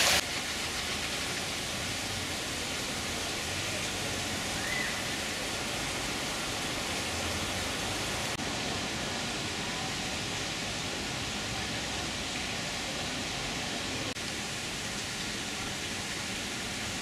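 Small stream flowing in a Paris park, a steady broadband rush of running water, continuous and even, with no talk.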